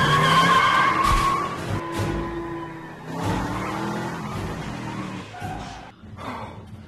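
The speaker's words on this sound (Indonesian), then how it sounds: "saat mobilnya sudah menyala, Luke pun dengan cepat masuk ke mobil dan pergi dari sana." A car in a film screeches its tires and speeds away, with loud skidding squeals and engine roar rising and falling over several seconds, mixed with soundtrack tones.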